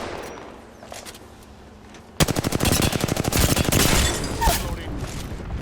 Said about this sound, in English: Signaling an airstrike